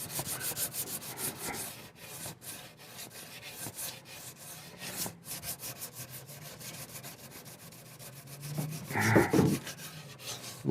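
Hand sanding works down the dry finish on a Victorian card table in a series of quiet, rhythmic rubbing and scraping strokes, ending in a louder, denser burst of abrasion.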